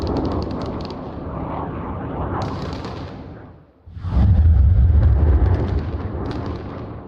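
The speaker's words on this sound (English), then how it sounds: "Oh god, we've got some airstrikes coming in." Airstrike explosions in the Arma Reforger combat game: a loud, sustained rumble of blasts and roar runs through, dips briefly to near silence, then returns with a heavier low boom that slowly fades.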